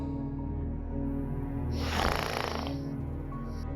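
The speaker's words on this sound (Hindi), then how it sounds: "ये तो खर्राटे लेता है।" A man snores loudly in a single long, rasping inhale that swells to a peak and then fades, heard alone and close over a steady low hum.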